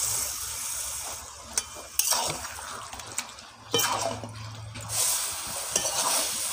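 Chicken with ground chilli and spices sizzles in a pan after a little water is added, with scraping stir strokes and a soft bubbling hiss. The frying holds steady and moderately close throughout.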